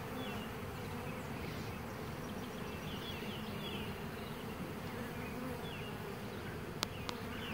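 Honey bees buzz in a bee yard, a dense, even drone of many insects close by that holds steady throughout, with a faint sharp click near the end.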